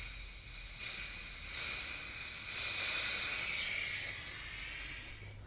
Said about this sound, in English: I'm going to let the air pressure off